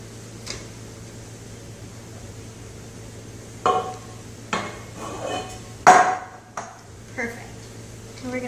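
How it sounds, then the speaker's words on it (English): A cake pan lightly tapped to release a baked cake, giving a few sharp metallic knocks spaced irregularly over a quiet steady hum, with faint room sounds between taps. "we are gonna lightly tap the bottom just to release the cake a little bit easier"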